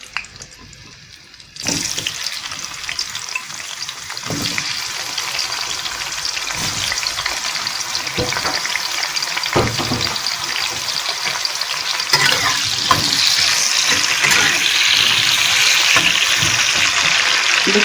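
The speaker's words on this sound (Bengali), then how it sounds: "এবারে আলুগুলোকে একটু ভেজে নেব আমি।" Potatoes hit hot mustard oil in a kadai and settle into a loud, steady, close sizzle that runs on without a break, with no one talking.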